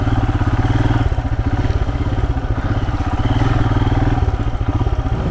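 Royal Enfield Himalayan motorcycles ride a jungle trail in Joypur Forest, a loud, close single-cylinder engine thumping steadily in a rapid pulse with rattling and clatter from the rough ground.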